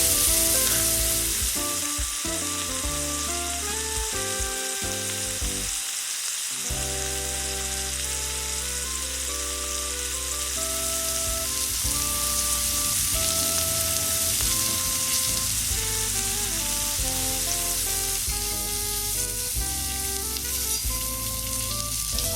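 Mahi mahi filets coated in blackened seasoning sizzle loudly and steadily in a hot pan, a continuous close frying crackle with a brief dip as a filet is flipped.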